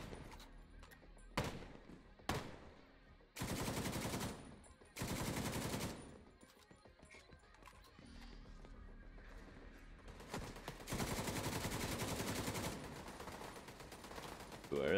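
Enemy turret gunfire in The Division 2 comes in loud sustained automatic bursts separated by quieter gaps and scattered single shots, with game effects underneath.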